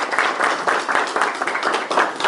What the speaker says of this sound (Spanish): pienso que se merece un aplauso desde ahora